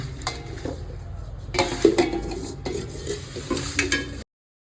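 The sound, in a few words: kneading hot flour dough by hand in a bowl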